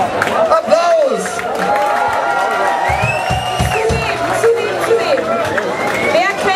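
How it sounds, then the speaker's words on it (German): A crowd at an old-town festival concert claps and cheers, with whoops and chatter mixed in under loud, steady music from the stage band, all close and dense throughout. "Applaus!"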